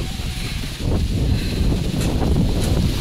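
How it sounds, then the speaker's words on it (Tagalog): Strong gusting wind buffets the microphone outdoors during a storm, a constant low roar with rustling and rattling over it, loud and unbroken. "Ayun guys, lakas ng hangin."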